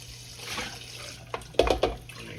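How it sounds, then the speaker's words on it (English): Water from a kitchen tap runs as a bowl is rinsed out after holding marinated dressing, a short close splash and gush near the end following quiet sink noise. "Rinse this bowl out too."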